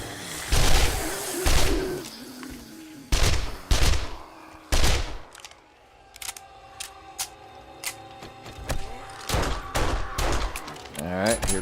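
A bird calls in the survival game 7 Days to Die, its faint repeated chirps mostly buried under loud bursts of gunfire and heavy in-game action, with a quieter stretch midway where the calls stand out a little.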